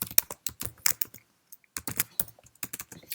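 Fingers typing on a Mac keyboard, a close, crisp patter of individual key clicks in quick bursts with a short pause midway, heard alone without any voice.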